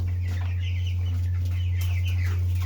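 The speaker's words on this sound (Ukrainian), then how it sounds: "Буває після вакцинації теж курка харчить." Broiler chickens cluck repeatedly at close range in a poultry house, some sounding hoarse, over a steady low electrical hum.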